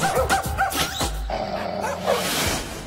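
Small dogs barking and yipping in a dog park area at Hudson Yards in New York City, several quick barks in a busy outdoor setting with crowd noise around.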